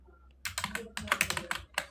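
Close-up typing on a computer keyboard: quick, irregular runs of crisp key clicks following a brief silence, steady and clear with nothing talking over them.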